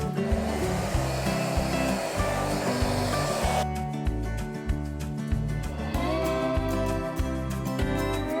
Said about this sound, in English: I'm gonna use a hair dryer to maybe speed up this process a bit.